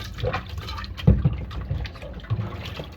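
Hot water is poured into a dirty stainless steel sufuria, a splashy, uneven stream with a louder gush near the middle before settling into a softer trickle.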